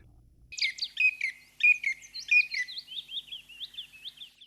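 A chipping sparrow sings alone, a quick dry run of high chips repeated evenly for about four seconds, clear and fairly close against a silent background.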